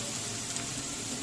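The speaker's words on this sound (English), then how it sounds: "Sizzle." Greens and bacon for a quiche fry in a hot pan, giving a steady, close sizzling hiss that holds evenly throughout with no voices over it.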